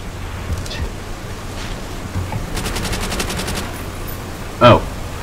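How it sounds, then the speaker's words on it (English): Enemy artillery fire in Call of Duty: World at War, a rapid burst of gunfire rattling mid-clip over steady battle ambience, then one loud close explosion near the end. "Enemy artillery!"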